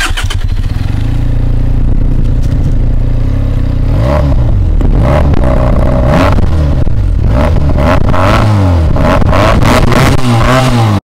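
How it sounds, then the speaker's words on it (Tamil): A Benelli 302R inline-two motorcycle's exhaust revs loudly and close by, with a steady idle followed by repeated sharp throttle blips that rise and fall. "ப்ரோ இந்த வண்டியோட எக்ஸாஸ்ட் சவுண்ட் ஆன் பண்ணுங்களேன்."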